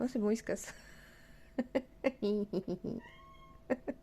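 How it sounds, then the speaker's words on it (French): A domestic cat meows several times in short, close calls, mixed in with someone speaking French right beside it. "il miaule, c'est parce qu'il va aller dehors"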